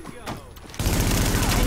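Gunfire in Tom Clancy's The Division, an initial sharp crack at the start, then a dense, loud burst of sustained shooting in the back half, with voices mixed in.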